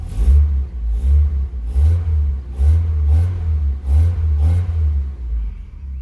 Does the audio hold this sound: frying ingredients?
no